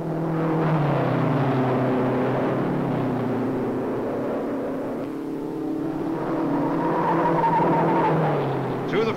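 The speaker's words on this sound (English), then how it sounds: "Through the first turn of lap 3, Vukovich fights McGrath for the groove. He's passing" Race cars at the 1955 Indianapolis 500 roar through a turn in close pursuit, a loud continuous engine drone rising and falling with possible tire noise and a faint voice underneath.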